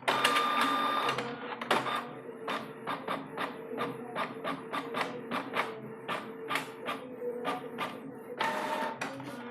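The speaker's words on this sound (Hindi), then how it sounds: "देख लीजिए पूरा का पूरा अच्छे से प्रिंट हो गया है ब्लैक एंड वाइट में।" A Canon Pixma E4270 printer prints a page in black and white, giving a close run of rapid, regular mechanical clicks and ticks with whirring feed motor bursts at the start and end.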